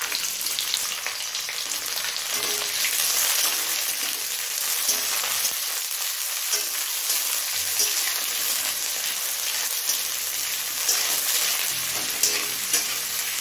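Two medium chopped onions frying in a pan with cumin and dried chilies, a loud, steady hiss and crackle that goes on without a break, with faint stirring and no voices.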